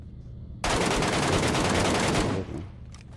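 A continuous automatic burst of MK14 rifle fire in a battle royale video game rattles loud and close for about two seconds, then cuts off into fainter echoing shots.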